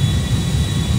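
An airplane in the video game GTA 5 gives off a steady, loud low engine drone with a thin high whine on top, unbroken and close throughout.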